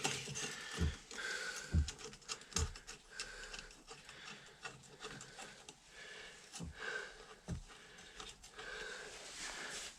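A 10 mm wrench tightening the clamp on an Akrapovic exhaust silencer fitted to a Piaggio MP3 500 scooter, giving a few sharp metallic clicks and ratchet-like ticks spread across a faint workshop background.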